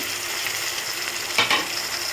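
Onions and tomatoes stir-fry in a pan for an okra dish, a steady close sizzle broken by a brief scraping stir near the middle.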